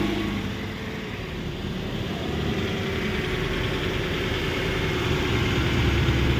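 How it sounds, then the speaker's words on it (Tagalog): A Toyota 86 with a P1263 check engine fault idles nearby, a steady low rumbling engine hum holding at even loudness with no voices over it. "hintayin natin mag-settle pa yung idling niya. Ayan, maandar na siya."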